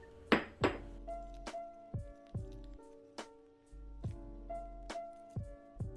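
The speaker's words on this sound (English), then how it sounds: "I'm just going to mix that up real good." Pecan pie cheesecake ingredients stirred in a pot, a spoon knocking and clinking against the metal in irregular sharp taps, several per second, close and clear with no talk.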